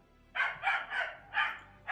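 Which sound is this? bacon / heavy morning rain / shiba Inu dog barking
shiba Inu dog barking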